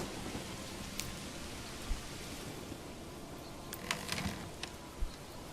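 Rain falls in the medieval city-building game Manor Lords, a faint, even hiss of drizzle with a few soft scattered taps and distant thumps, quiet and uninterrupted.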